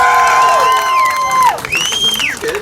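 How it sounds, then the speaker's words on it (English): A live audience at a one-man-band show lets out a big cheer, loud whooping and shouting voices rising and swelling together throughout, with no applause standing apart from the crowd noise. "Let's just do a really big cheer, just for the sake of cheering, just for no reason."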